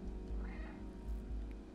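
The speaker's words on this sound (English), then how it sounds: "Press B to meow." A game cat meows once in the video game Stray, a short mid-pitched meow over a steady low rumbling game background.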